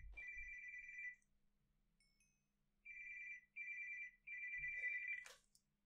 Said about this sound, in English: The phone is going crazy.